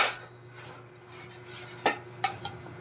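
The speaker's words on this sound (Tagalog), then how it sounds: "Ayusin ko lang tong mga plato. Hinugasan ko kagabi." Washed plates being stacked and arranged, soft scraping and rubbing followed by a few sharp ceramic clinks close by, with no talking.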